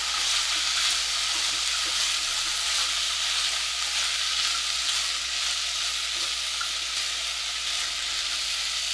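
Sweet potato and cashew sautéing in ghee, giving a dense, even, close sizzle that stays constant throughout with no talk.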